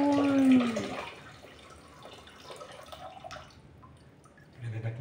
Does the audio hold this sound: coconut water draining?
yes